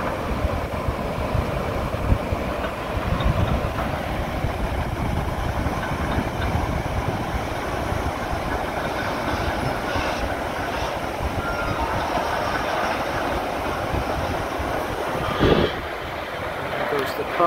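A dam gate car rolls along its rails on the Mohawk River, giving a continuous low rumbling drone with a steady mechanical hum. Wind noise sits over it, and a brief clank comes near the end.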